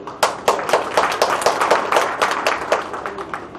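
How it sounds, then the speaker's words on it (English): An audience at a 2015 TVET conference plenary session claps for a speaker: distinct, loud individual claps ring out in an uneven, fairly quick rhythm from a modest group, continuing for several seconds without talk over them. "We must have a clap for him."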